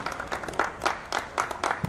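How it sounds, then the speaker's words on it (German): Stadium crowd applauding at the final whistle of an SK Sturm Graz friendly against FK Vozdovac, a faint, distant patter of clapping swelling in soft bursts with no talk over it. "Applaus gibt's und den gibt's zu Recht"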